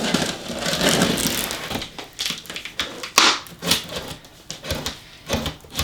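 Scissors slice through many layers of packing tape sealing a cardboard box holding a Cricut Maker, producing close, crinkly, irregular tearing and snipping bursts with no talk.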